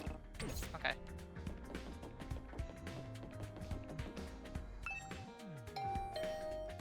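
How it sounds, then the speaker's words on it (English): A doorbell rings at Tsubasa's room in the game Hundred Line: Last Defense Academy, a ding-dong chime over busy mechanical clanks and creaks and soft game music, with tonal notes sounding near the end. "I rang the doorbell to Tsubasa's room."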